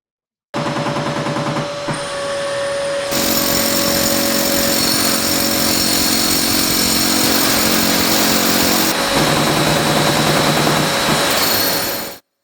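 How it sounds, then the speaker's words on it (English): A hammer drill with a masonry bit bores 20mm holes into a concrete garage floor for two-post hoist anchor bolts. The loud, continuous grinding roar shifts in pitch as the bit bites, then stops abruptly. "And next came the drilling. There are multiple 20mm holes for the true bolts."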